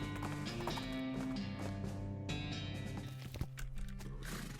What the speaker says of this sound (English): The horse reluctantly agrees and trots off, leaving the binoculars behind.